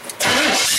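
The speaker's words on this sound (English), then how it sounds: "start the car, and the test light should light up when we start the car" A Corvette engine cranks and catches in under a second, bursting into a loud, close, steady roar after a brief quiet moment.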